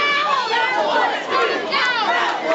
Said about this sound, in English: I think Silva thought he had it on that one. Crowd does too